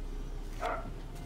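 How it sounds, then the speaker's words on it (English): A single short dog bark, moderately loud, cuts through a low room hum during a Yu-Gi-Oh card pack opening. "I'm sorry for all the barking"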